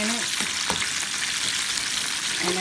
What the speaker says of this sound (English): this chicken has been frying for 12 minutes